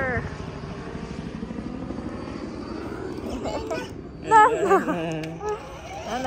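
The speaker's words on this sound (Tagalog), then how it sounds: "Oh, may helicopter." A helicopter flies overhead on a family morning outdoors, its steady throbbing drone swelling briefly as it passes, heard beneath the chatter of children and adults.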